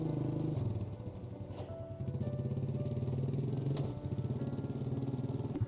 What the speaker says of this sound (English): That was him driving the four-wheeler.